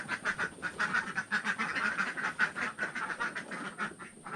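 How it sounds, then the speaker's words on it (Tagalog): A flock of pet ducks quacks continuously and excitedly at feeding time on a small farm, rapid overlapping calls close by with no one talking. "papakain na naman tayo ngayon ng ating mga alagang itik"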